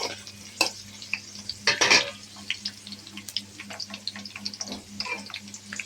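Raisins and nuts fry in a pan with a light sizzle as a spoon stirs and scrapes in irregular clinks and strokes, close by with a low steady hum beneath, no talking.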